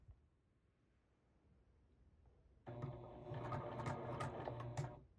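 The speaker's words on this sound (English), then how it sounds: "start sewing down this crease" Sewing machine stitching down the crease of a quilted nine-patch throw, its motor starting abruptly after a quiet moment and running in a steady, close whirring hum to the end.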